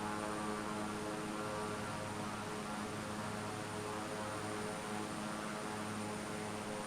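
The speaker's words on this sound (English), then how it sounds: "I'm flying the Caravan because it's like fairly quick, but it's still a slow plane" A Cessna Caravan single-propeller plane in Microsoft Flight Simulator, heard as a steady, even, faint engine and propeller drone with broad airy hiss throughout and no pauses.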